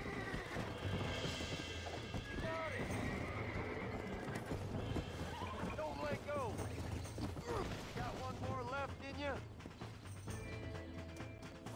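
A horse in the Red Dead Redemption video game whinnies several times amid clip-clopping hooves and creaking mechanisms, with game sounds layered beneath and a voice talking at times.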